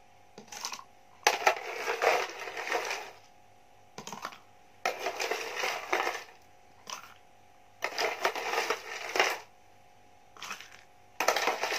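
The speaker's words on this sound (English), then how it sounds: "add the crushed ice into the glass, into the bottle, using the spoon" A spoon crushes ice in a bottle while iced coffee is being made, giving repeated bursts of hard clattering and clinking separated by short pauses.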